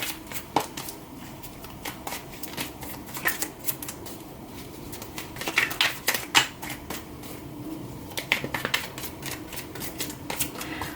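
Tarot cards being drawn and shuffled during a Gemini reading: a steady run of soft papery flicks and slaps, close and fairly quiet, with a few sharper snaps toward the end.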